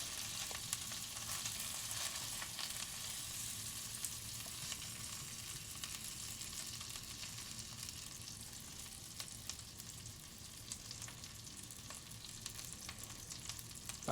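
A Beyond Meat vegan bratwurst sausage sizzles on a grill at 400 degrees, a steady dense crackle with no pauses, close by and fairly quiet, with no talking.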